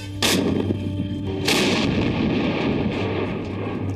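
Two thunderous booming reports from a Bofors artillery gun firing rounds, each a sharp blast followed by a long rumbling tail, loud over a steady background hum.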